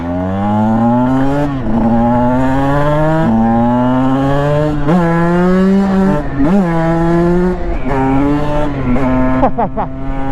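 A 2016 Husqvarna 125 TE two-stroke dirt bike ridden across grass, its engine loud and close, revving up and down over and over as it shifts through gears, with no talking.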